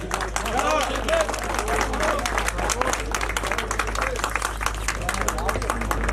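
A crowd at a cycling race podium ceremony claps for the general classification winner, steady applause and scattered cheers mixed with crowd chatter and talk throughout.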